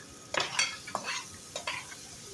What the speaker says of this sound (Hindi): अब प्याज डाल देंगे।